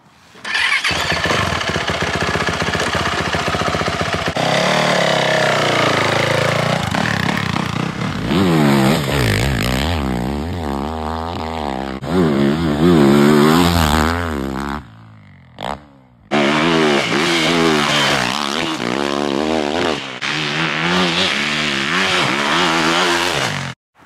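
Two-stroke and four-stroke dirt bikes, including a 1996 CR250, a YZ250 and a YZ450F, rev hard and loud up close during motocross laps on a frozen track, the engine pitch rising and falling repeatedly with a brief cutout near the end.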